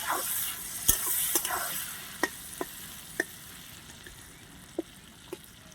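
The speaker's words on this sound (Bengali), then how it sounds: "সামান্য হলুদ আর 1 চামচ নুন দিয়ে বেগুনটা এবার আমি লাল লাল করে ভেজে তুলে নেব।" Eggplant slices seasoned with turmeric and salt fry in oil, with a soft steady sizzle and a series of sharp, separate spatula clicks and taps against the pan.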